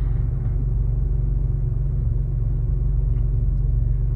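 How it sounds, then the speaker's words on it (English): A truck reversing slowly, heard as a steady low engine rumble with an even idle throb throughout, close and continuous without any revving. "Just backing up the vehicle."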